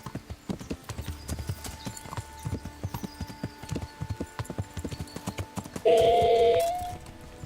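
Regular clip-clop of horse hooves trotting in a video game, steady and fairly close, with a brief loud tonal game sound near the end.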